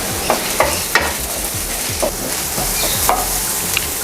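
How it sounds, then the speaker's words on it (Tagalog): Ginger, garlic and onion sautéing in a pan for spicy pork ginataan, a steady loud sizzle broken by regular scraping stirs of a spatula, with no one speaking. "nangamoy na yung ating mga ginisang luya, bawang at saka sibuyas"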